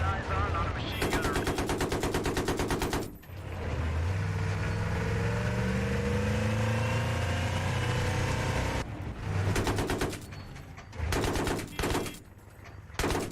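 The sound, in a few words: machine gun fire in Battlefield 3 video game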